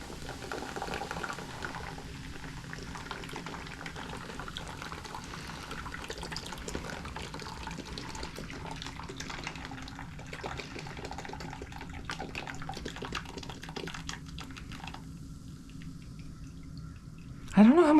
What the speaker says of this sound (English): It's kind of annoying that this like splashes water every fucking where.